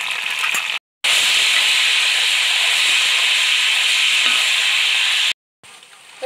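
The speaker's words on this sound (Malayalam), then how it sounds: "അതിൽ നിന്ന് ഒരു സ്പൂൺ ഉപ്പ് വെള്ളം ഇതിലേക്ക് ഒഴിക്കുക" Jackfruit chips fry in hot oil as salted water is poured in, setting off a loud, steady, high hiss and crackle of steam that runs for several seconds between brief cuts to silence.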